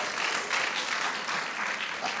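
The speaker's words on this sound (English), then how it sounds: "Give her a round of applause," Audience applause at a distinguished lecture event, a steady wash of clapping from a seated crowd lasting a couple of seconds, fairly even in loudness with no voices standing out.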